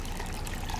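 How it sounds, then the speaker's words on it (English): Water carrying live rare fish is poured into a cup fitted with a breather bag, producing a steady, continuous splashing trickle throughout the short moment. "We're going to pour them into this cup with the breather bag inside of it."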